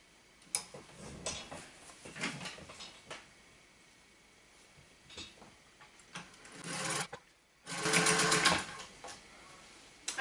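A sewing machine stitching fabric for an apron, running in short close bursts with quiet pauses and small handling noises between, ending in a louder, faster run.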